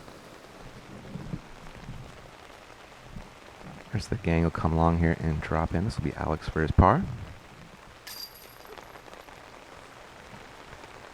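Steady rain from hurricane remnants hisses throughout as a broad background wash at a disc golf tournament, with someone speaking clearly over it in the middle of the clip.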